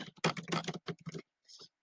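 Rapid typing on a computer keyboard while entering a password, a fast run of crisp close clicks and key taps, followed by a brief pause and a final cluster of keystrokes.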